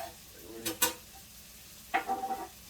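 Garlic fries in a pot for Cajun red beans and rice, with a few brief scraping stirs, a pause, then a short cluster of sizzling, stirring sounds close by.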